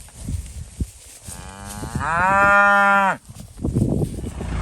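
Calves in a farm cattle yard let out a single long, close moo lasting about a second, over faint outdoor background noise, with no talking.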